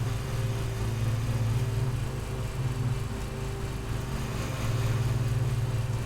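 A lawn mower engine hums steadily in the video game Lawn Mowing Simulator, a continuous low droning motor with a slight rise and fall in loudness and no voices.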